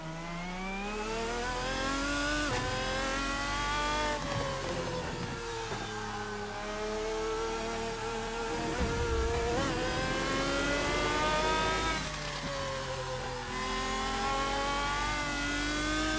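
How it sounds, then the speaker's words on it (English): A high-revving Lamborghini V12 engine in the Assetto Corsa racing video game roars steadily, pitch sweeping up through the gears with brief dips at shifts, loud and continuous with no voices. "classic Lamborghini V12 sound"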